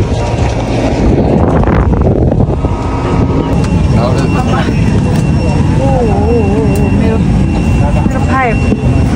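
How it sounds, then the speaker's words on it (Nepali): Cool wind rushes in a loud, continuous roar during a journey from Butwal toward Kathmandu, buffeting close up. A voice talks over it. "यस्तो शीतल हावा सरर चिसो हावा चलेछ"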